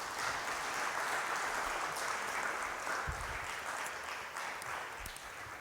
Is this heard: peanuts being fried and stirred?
no